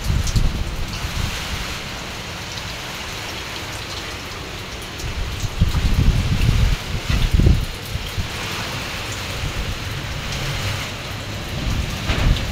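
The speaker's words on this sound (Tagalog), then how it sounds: "Sana po tumigil na po ang bagyo." Heavy typhoon rain pours steadily onto surfaces while gusting wind swells and fades, peaking in a louder roaring surge midway, with no voices.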